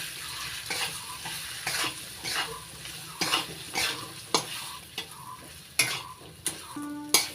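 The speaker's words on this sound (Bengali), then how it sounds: "এবার লো ফ্লেমে একসাথে মশলাগুলো ভেজে নেব।" Spices with turmeric and salt fry on a low flame while a spatula stirs them, a steady sizzle under repeated close scraping strokes against the pan.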